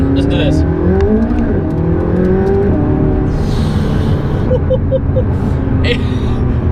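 A McLaren 570S engine revs loudly and continuously up close, its rising and falling tone filling the whole stretch, with a bit of tire noise and a voice underneath.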